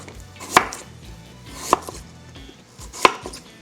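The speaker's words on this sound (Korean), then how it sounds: "나박 썰어 준비할게요" Three sharp knife strokes through radish on a cutting board, evenly spaced about a second apart and close up, each a crisp thud against quiet.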